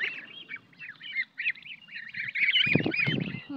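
Young 22-day-old geese kept together with ducklings honk and call repeatedly, a rapid chorus of honks up close that grows louder and busier toward the end.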